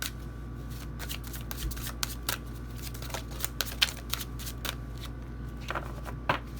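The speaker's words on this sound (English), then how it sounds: "One more shuffle." Tarot cards being shuffled by hand at close range, a steady run of soft papery riffles and flicks with brief louder snaps against a quiet room hum.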